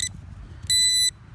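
A metal detector sounds a steady, loud electronic tone while sweeping over an old glass object buried deep in a dig hole: a brief beep, then a longer sustained one of about half a second.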